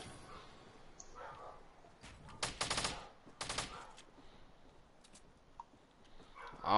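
Gunfire bursts in the video game Fortnite, two short loud volleys of rapid shots at mid-distance, rising above a quiet background of footsteps and small game noises.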